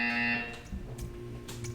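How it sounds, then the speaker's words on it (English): A test chamber buzzer in the video game Portal sounds as a loud tonal electronic buzz lasting under half a second, followed by a quieter, low ambient hum. "You will hear a buzzer. When you hear the buzzer, stare at the art."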